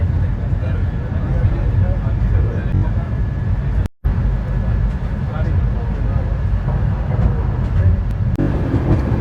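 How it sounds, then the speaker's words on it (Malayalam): A slow-moving Yoga Express train near Sabarmati railway station, Ahmedabad, gives a steady low rumble and rattle of carriages on rails, continuous and fairly loud with a brief dropout midway, while a voice talks over it. "ട്രെയിൻ ഇതുവരെ സ്പീഡ് എടുത്തിട്ടില്ല."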